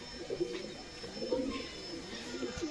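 Pigeons in a backyard loft, a pair of them kept as Andhra Pradesh birds, coo softly in low repeated throaty bursts, several overlapping calls at close range with no talk over them.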